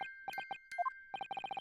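Music box chiming from The Great Ace Attorney Chronicles, sounding as clipped, evenly pulsed high tones in Morse-like bursts. Short and long groups are split by a brief pause with two lower blips between them. No voices are heard.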